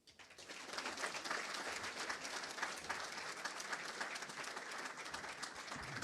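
A crowd applauds the league president at a sports league awards night, a continuous dense clapping that swells up quickly and holds steady, moderately distant, without speech.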